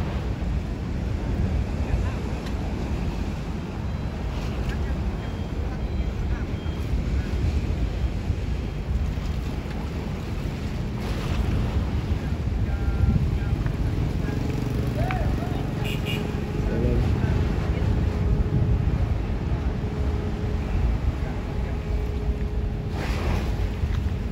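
A boat rumbles steadily on choppy ocean water, rocking in the waves, with waves sloshing and wind noise throughout, while people talk intermittently over it.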